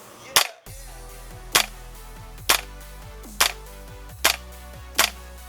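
An H&K airsoft gun fires on semi-automatic, six sharp, loud snapping shots at roughly one-second intervals, each with a brief mechanical clack from the bolt, close up with no talk.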